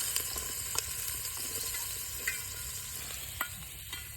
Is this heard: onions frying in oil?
yes